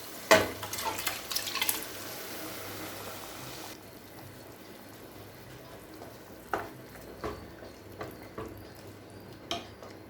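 Boiled mutton tipped into sautéed masala in a pan, a few sharp scrapes and clatters of a spoon stirring it through, with a low sizzle running beneath and scattered spoon knocks later on.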